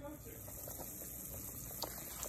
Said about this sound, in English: Okay, now it's boiling.